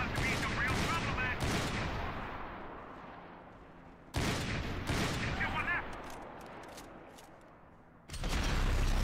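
Heavy .50 caliber gunfire in Max Payne 3, loud rapid bursts that decay into reverberant tails, with a fresh blast about every four seconds.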